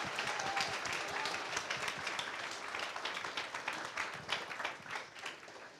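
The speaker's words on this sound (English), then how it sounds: "We should clap for sure." Audience applause at a graduation ceremony on a Barcelona campus, a dense sustained clapping from many hands throughout, fairly distant and even, tapering slightly at the end.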